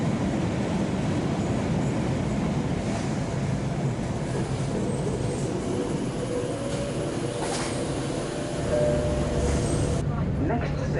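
A Tyne and Wear Metro train stands at a platform at the old Jesmond railway station site, its steady rumbling hum filling the scene throughout with a faint chime and swell near the end.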